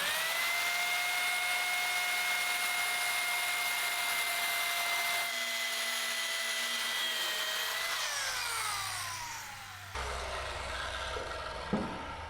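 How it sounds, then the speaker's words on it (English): A 12-volt power saw cutting wood pieces for a large lizard pen gives a steady, high motor whine that drops in pitch and changes tone as the blade bites, close by and with no talking. "Nice saw, 12 volts."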